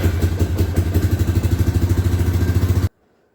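A Honda Rancher 350 ATV engine runs steadily with a rapid, pulsing chug for about three seconds, then cuts off abruptly into near silence.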